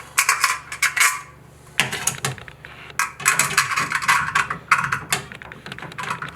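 A Moen shower valve face plate being refitted during a leaking-valve repair: irregular bursts of sharp metallic clicks and clatter, close by, separated by brief quiet gaps.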